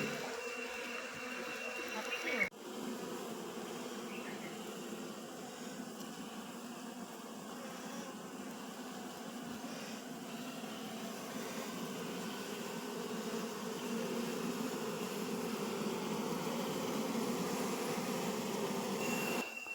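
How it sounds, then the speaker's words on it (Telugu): Many bees swarm around a comb of wild forest honey, making a steady, faint droning buzz that continues for about twenty seconds. Someone talks over it. "ఫ్రెండ్స్ చూడండి, చాలా ఈగలు అయితే ఉన్నాయి."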